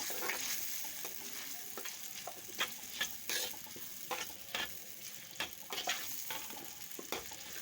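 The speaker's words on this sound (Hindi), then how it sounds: "हाफ़ टेबल स्पून डालकर अच्छे से हम इसको मिक्स कर लेते हैं और उसको भून लेते हैं" Spiced eggplant masala with coriander powder is stirred and fried in a pan, giving a steady sizzle under repeated scraping strokes of a spoon across the pan at an irregular rhythm, close and fairly quiet.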